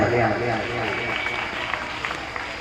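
An audience claps during a Hindu religious katha gathering, a steady patter of hands running under someone talking loudly close by.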